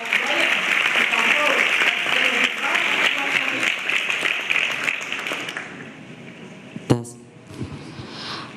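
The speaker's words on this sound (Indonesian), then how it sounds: "Kepada adik Brian, kita undang dengan tepuk tangan dulu." An audience at an event with Pope Francis gives steady, full applause that fades out, followed by a sharp knock and handling noise at the end.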